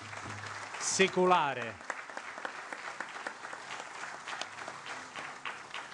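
An audience at a public meeting on historic shops and local tradition breaks into applause, a dense, steady clatter of clapping that continues through the clip while a voice speaks briefly over it.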